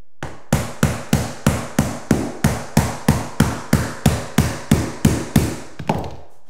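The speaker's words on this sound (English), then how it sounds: "you can tap this end carefully that way" Vinyl plank flooring, Lifeproof LVP, being tapped into place during installation: about sixteen evenly spaced, sharp knocks in a steady rhythm, close and fairly loud, with no talking.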